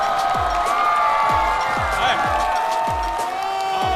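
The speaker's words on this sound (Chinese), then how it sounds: "掌声有请大齐" Studio audience at a Chinese stand-up comedy show applauds and cheers loudly and steadily as a comedian is introduced, a dense continuous wash of clapping and crowd noise with rhythmic thumps beneath.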